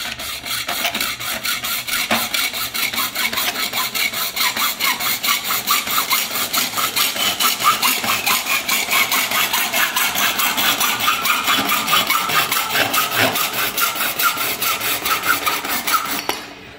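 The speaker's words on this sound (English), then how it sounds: "all I want to do is get a hacksaw blade and just literally cut the end of this hose tail" A hacksaw blade cuts the end off a hose tail at a koi pond: rapid, steady back-and-forth rasping strokes, close and loud, continuing for about sixteen seconds with no talk.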